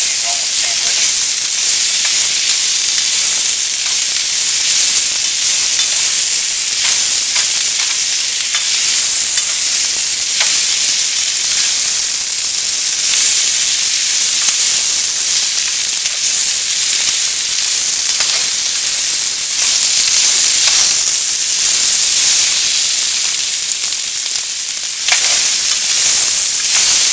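Sliced steak for Philly cheese steak sandwiches fries loudly in a pan while being stirred, a dense continuous sizzle and hiss with occasional utensil scrapes, close and without pause.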